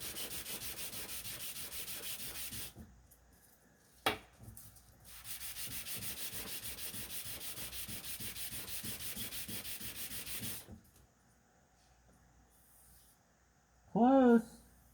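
Sandpaper rubs steadily back and forth over a harmonica comb in long close-up scraping stretches with short pauses between them, and a voice speaks briefly near the end.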